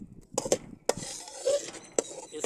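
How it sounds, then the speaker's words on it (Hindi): A metal spoon scrapes and clinks against a pot while spices are stirred into achari biryani, a few sharp knocks and soft scrapes, fairly close and quiet. "अभी इसको जो है चम्मच के साथ थोड़ा सा हिलाएंगे ताकि ये पूरे जो है इसके अंदर जो है मिक्स हो जाए"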